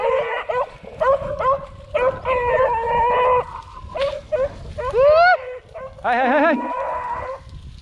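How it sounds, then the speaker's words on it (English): A rabbit-hunting dog out in a field barks and yips in a rapid series of sharp, high, close calls, with short pauses and then a burst of excited yelps. "Hey, good dog, Good dog."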